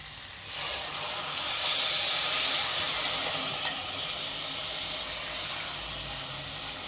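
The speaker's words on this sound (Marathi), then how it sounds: "यात मी 9 वाटी पाणी घालणार आहे" Cold water pours into a hot pot of masala rice, bursting into a loud steamy hiss that swells and then settles into a steady sizzle.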